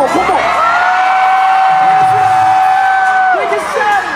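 A large crowd at a lively event roars, whoops and cheers at full volume, a sustained wall of shouting voices with a long held yell rising above the din.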